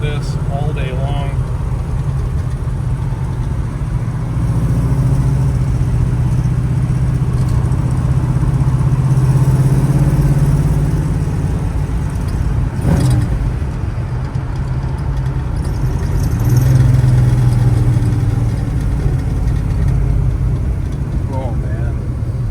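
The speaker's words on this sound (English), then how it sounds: "I love this car making some noise." A 1965 Chevrolet Chevelle Malibu coupe with a 500 hp 454 LS7 big block cruises with a steady, loud, deep engine drone and a couple of rising swells, while a voice talks over it at times.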